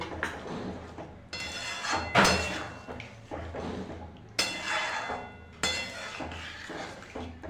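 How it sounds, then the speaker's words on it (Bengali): A spoon stirs cornflour slurry into egg chilli in a pan, giving repeated clinks and scrapes against the metal, with a few sharper knocks in an irregular rhythm, close and moderately loud. "আমি আগে থাকতে কর্নফ্লাওয়ার গুলিয়ে রেখেছিলাম দিয়ে দেবো ভালো করে নাড়িয়ে নেবো না দলা হয়ে যাবে"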